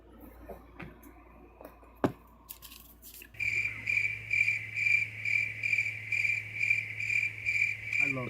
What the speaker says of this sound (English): I love crickets.